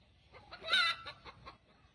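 Chickens cluck in a short burst of several calls, fairly close and moderately loud, with one sharper squawk near the middle and no talking over them.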